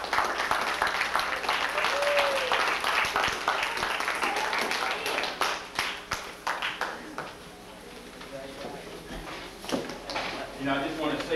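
At a 1995 youth summit held in a church, an audience breaks into scattered, crackling applause, clapping rising and fading in waves with voices mixed in.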